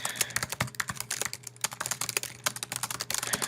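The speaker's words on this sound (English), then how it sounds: "we'll type through the code really fast" Rapid typing of code on a computer keyboard, a dense close run of crisp key clicks and clacks with brief pauses, no voices.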